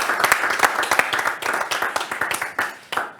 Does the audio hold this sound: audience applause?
yes